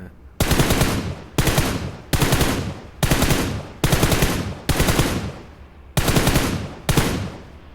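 Eight bursts of automatic gunfire in PUBG Mobile, each loud, close and sustained for about a second, separated by short gaps, with no talking.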